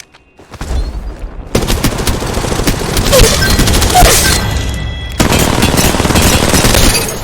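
Valorant gunfire: rapid automatic bursts hammer loudly and densely, cut off by a brief pause and a reload, then resume just as hard.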